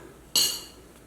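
A single sharp metallic clink rings out close by as grade 8 bolts are handled during a Jeep TJ windshield job. The clink decays quickly into quiet.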